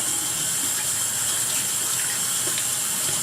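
Water running over a boar-bristle shaving brush to rinse off soap, a steady, close, loud tap-like gush that holds unbroken with no voices.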